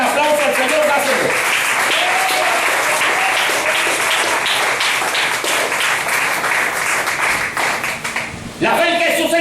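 A church congregation claps loudly and continuously as one dense wave. A voice speaks over the applause near the start, and the clapping breaks off sharply near the end.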